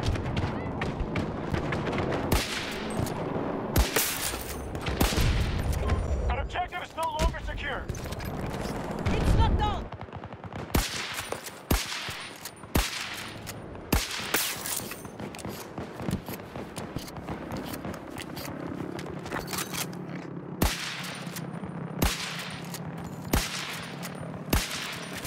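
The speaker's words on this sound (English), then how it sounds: "I'm shooting people out of the fucking pilot seat." Rapid bursts of gunfire in Battlefield 2042 aimed at pilots in vehicle seats, with dense automatic fire early and sharp scattered shots later, loud and close, with a player talking over the game sounds.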